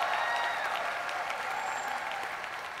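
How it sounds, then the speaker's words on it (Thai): Sustained applause from a studio audience on a Thai televised singing competition stage, a steady dense clapping that holds at an even level and fades slightly toward the end. "ขอเสียงปรบมือ"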